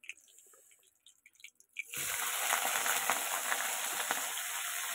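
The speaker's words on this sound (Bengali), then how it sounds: "এবার এই তেলেই আমি চিংড়ি মাছ পেঁয়াজ দিয়ে, লঙ্কা দিয়ে, রসুন দিয়ে চিংড়ি মাছের মাথাগুলো ভেজে নেব" Prawn heads drop into hot oil with onion, chili and garlic. A few soft drips and taps give way to a sudden, loud, sustained sizzle that holds steady.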